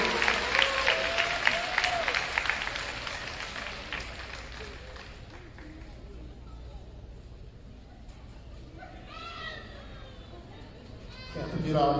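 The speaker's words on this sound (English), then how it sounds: "let's give them a big round of applause for their hard work" A graduating high school class receives applause at a class night event, with dense clapping and crowd noise loud at first, then fading into lighter crowd chatter with voices talking near the end.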